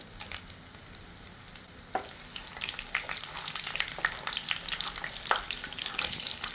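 Mustard seeds, urad dal, cumin and dried chillies sizzling in hot oil: a soft crackle that bursts into a denser, louder sizzle with popping seeds after a couple of seconds, close and steady, without speech.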